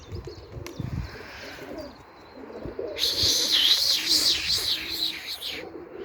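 Pigeons at an outdoor flying display, low cooing early on, then a brighter burst of higher bird calls for a few seconds, moderately close.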